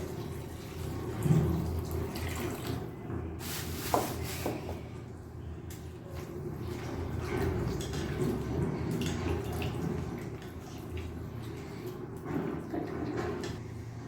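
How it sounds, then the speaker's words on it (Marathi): Raw goat mutton, about a kilo, washed in a basket with water: steady splashing and running water with a few louder sloshes and drips, close by, with no talking. "आता आपण हे एका टोपल्यामध्ये काढून स्वच्छ धुवून घेणार आहोत"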